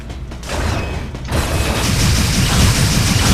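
Video game weapon fire blasts away at enemies with loud, dense mechanical booms and a rushing roar, building from a brief lull into a continuous barrage.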